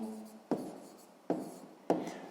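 Pen strokes on paper while writing numbers by hand during a sixth-grade math exercise, three scratchy bursts spaced roughly evenly, close and fairly quiet with a soft rustle between them.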